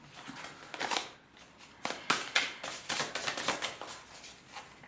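Tarot cards being shuffled and drawn, a run of soft, close riffling and flicking bursts with brief pauses between them, with no talking.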